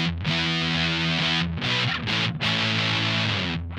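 Electric guitar through a Tim Guitars Big Mud fuzz pedal with the gain turned all the way up, thick saturated chords played continuously with a few quick changes, loud and up close.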